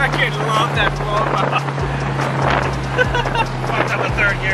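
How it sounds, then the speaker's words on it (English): Engine of a Subaru STI with a fully built engine drones steadily during a drive, its pitch dipping briefly between gear changes, under wind noise and voices talking. "Dude, this STI sounds so good."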